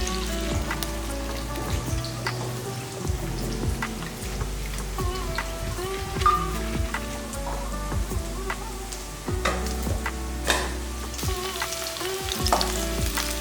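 Sliced onions frying in ghee in a pan until well browned, a steady crackling sizzle with scattered sharp pops, continuous and close, no voices.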